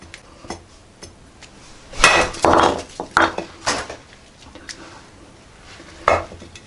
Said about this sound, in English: I will chop like I did last time here